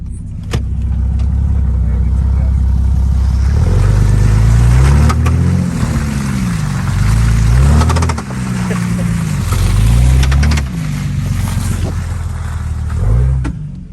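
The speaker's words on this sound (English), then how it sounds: "it's basically just a super loud popping sound" A Jeep WJ with a failed transfer case or drive shaft, put in four-wheel-drive low, gives a heavy low rumbling drone with repeated wavering surges and thumps, loud and close, with no talking.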